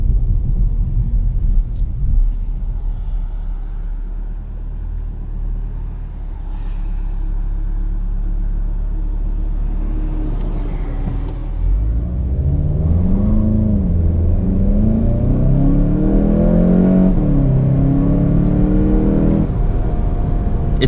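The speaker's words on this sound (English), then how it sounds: "I wanna see what the 0 to 60 acceleration time is like." A 2019 Volkswagen GTI Rabbit Edition accelerates onto a highway from inside the cabin, its steady engine rumble climbing into a loud, rising drone through several gear pulls with no talking.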